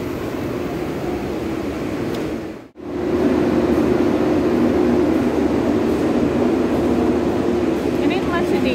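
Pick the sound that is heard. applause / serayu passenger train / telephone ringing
serayu passenger train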